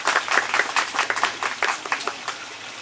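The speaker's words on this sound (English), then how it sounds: "Give her a big round of applause." Audience applause in a hall, a dense burst of many hands clapping at once, loud and close, with individual claps audible through the steady patter.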